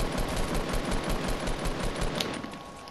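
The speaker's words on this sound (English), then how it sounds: "Keep on shooting at the bottom." Automatic gunfire in the video game Fortnite rattles off as a fast, continuous burst of evenly spaced shots, loud and close throughout.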